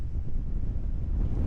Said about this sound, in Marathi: भरपूर वारा सुटला इथे.